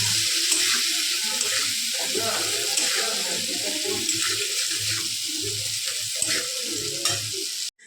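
Spice masala for aloo paratha fries and sizzles steadily in a pan, with stirring and a running-water-like hiss throughout at moderate loudness, ending abruptly.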